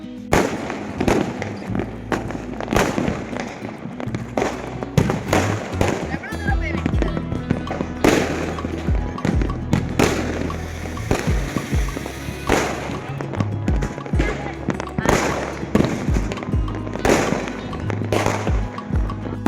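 Diwali firecrackers and fireworks burst in repeated loud bangs and crackling volleys over a Madurai rooftop celebration, some close and some farther off, with people talking and shouting throughout.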